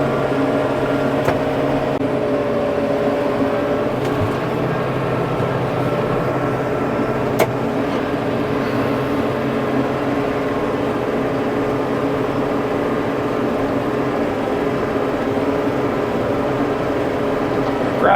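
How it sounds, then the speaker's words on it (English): A tractor in 3rd gear drives a 540 brush hog mower off its PTO, producing a loud, steady engine drone and mower hum that runs unbroken from start to finish. "These are 540 brush hog mowers, so I put the RPM at 540 on the PTO"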